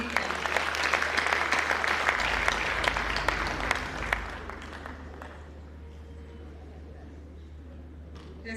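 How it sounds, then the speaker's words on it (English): Audience applause at an early marriage conference in Freetown, Sierra Leone, with dense steady clapping for about four seconds that then tapers off into quiet room noise. "I'm tempted for us to give another round of applause for our First Lady."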